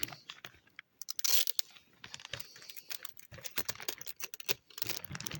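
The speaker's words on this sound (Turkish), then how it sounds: "Kusura bakmayın biraz bandın sesi videoda kötü çıkıyor." Adhesive tape being pulled off the roll and pressed onto wooden beehives outdoors, with sharp crackling rips and sticky tearing bursts in an uneven rhythm, close and fairly loud.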